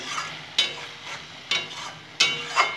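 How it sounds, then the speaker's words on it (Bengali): Cucumber ghonto curry being stirred in a pan, three or four distinct spoon scrapes over a soft sizzle, close and moderately loud with no talking. "আবার নাড়িয়ে নেব।"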